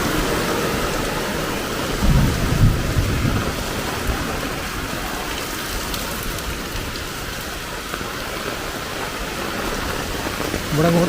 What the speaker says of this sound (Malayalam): നല്ല കട്ട മഴയാണ്.